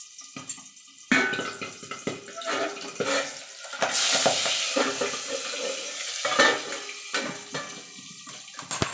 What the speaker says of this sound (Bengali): এইভাবে ঢাকা দিয়ে দিয়ে কিন্তু মাছগুলো ভাজতে হবে।